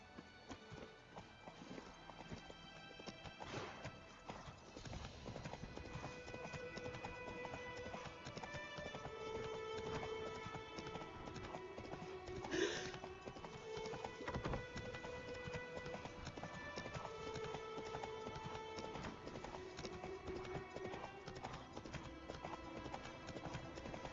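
Steady rhythmic clip-clop of a horse's hooves galloping in The Witcher 3: Wild Hunt, continuous and close for the whole stretch, with a brief neigh midway and game music faintly underneath.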